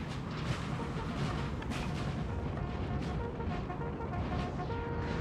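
Continuous battlefield din from Napoleon Total War, with artillery fire including 6-pounder guns in a duel at Fuentes de Onoro, heard as dense, overlapping booms and rumble with no pauses.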